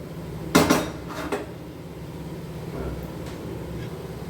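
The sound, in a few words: cooking pot being placed on a stove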